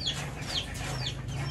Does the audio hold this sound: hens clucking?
yes